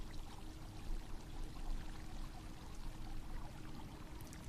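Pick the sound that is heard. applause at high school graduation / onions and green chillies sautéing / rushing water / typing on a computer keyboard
rushing water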